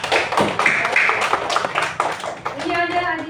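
Classroom applause from students, a dense burst of clapping with overlapping voices and cheering, fairly loud and sustained, ending with a brief sung or chanted tone.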